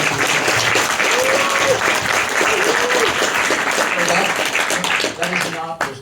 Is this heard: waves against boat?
no